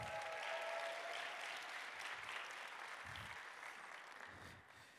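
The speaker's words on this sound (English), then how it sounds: "Everybody give Kirk a round of applause" A church congregation applauds as Kirk is called up front, a broad, fairly faint wash of clapping hands with low thumps underneath, gradually softening over the seconds.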